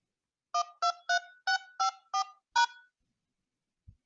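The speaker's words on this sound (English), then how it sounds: "Please enter your 6-digit phone banking PIN using the dial pad followed by pound." Seven crisp dual-tone keypad beeps from a telephone dial pad as a six-digit phone banking PIN and the pound key are entered, evenly spaced and close, followed by a faint click.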